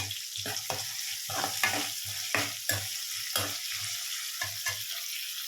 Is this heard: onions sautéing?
yes